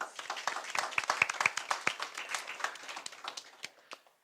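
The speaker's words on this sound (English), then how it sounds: "Please give our timekeeper a round of applause." Audience applause for the timekeeper at a school debate semi-final, fairly quiet with distinct individual claps from a modest crowd, tapering off over a few seconds.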